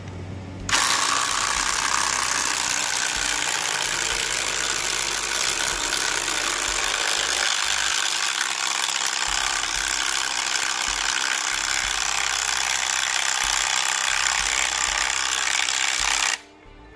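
A Rockwell power driver sinks a lag screw into wood, a steady loud whirring mechanical drone with a ratcheting edge that runs nonstop for about sixteen seconds, then cuts off abruptly.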